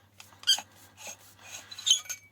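An e-bike battery pack being pulled from its casing during a teardown, giving a run of sharp, close squeaks and scraping rubs in irregular bursts over a faint steady hum, with no speech.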